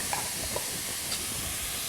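Onion and spices fry in a pan without fat, a steady close sizzle and hiss with a few soft stirring scrapes.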